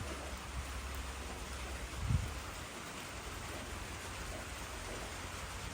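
Steady rain falls outdoors at a forest home, a dense even hiss of drops on surfaces throughout, with one brief low thump partway through and no talk.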